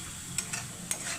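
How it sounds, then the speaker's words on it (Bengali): Spices stirred in oil in a pan for moong dal with fish head, a quick soft scrape or two of the spoon over a low, steady sizzle. "এবার আমি ভালো করে এগুলো নাড়িয়ে নিই"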